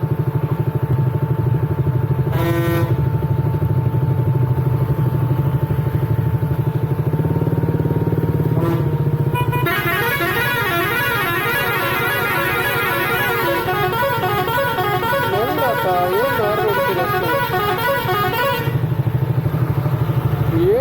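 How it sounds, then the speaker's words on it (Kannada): Vehicle horns blare in busy road traffic full of motorcycles. A short honk comes early, then a long, loud, wavering horn blast runs for several seconds over a constant rumble of engines. No voices are heard. "ನೋಡಿ ಹಾರ್ನ್ ಹೊಡಿತಾರ, ಅದು ಹಾರ್ನ್ ತುಂಬ ಇರಿಟೇಟ್ ಆಗುತ್ತೆ."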